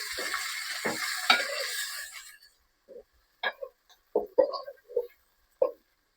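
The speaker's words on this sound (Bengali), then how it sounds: "এবারে আমি টমেটো দিয়ে দিব।" Tomatoes go into a pan of tilapia fish curry, raising a loud burst of sizzling that quickly dies down, followed by several short scrapes and stirring clatters against the pan.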